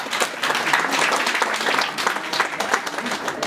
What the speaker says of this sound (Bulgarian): Моля, аплодисменти за младото семейство.